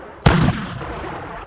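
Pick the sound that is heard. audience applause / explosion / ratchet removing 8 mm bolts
explosion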